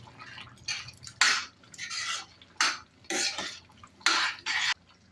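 A spoon stirs prawn masala with coriander in a pan, producing repeated rhythmic scraping strokes in distinct bursts with brief pauses between, close and without speech.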